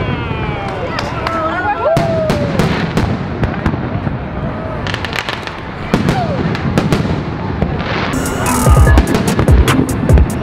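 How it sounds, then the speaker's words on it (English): Fireworks bursting over a street, with repeated sharp cracks and booms in quick irregular succession, some close and loud, amid crowd noise and people talking. "I'm in the middle of the street on the fireworks"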